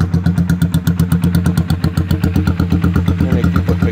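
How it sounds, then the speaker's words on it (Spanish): Kick-start motorcycle with a never-opened engine running close and loud, an even rapid thumping beat held steady throughout with no talk. "El motor jamás fue abierto. Arranque a patada."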